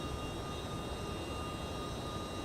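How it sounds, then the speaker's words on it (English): Simulated MD-11 trijet engines in the X-Plane flight simulator, heard from the cabin: a steady broadband roar with a faint high whine, even and unbroken, no talk. "The cabin uses the engine exterior view sounds, so you don't get the rumble on start."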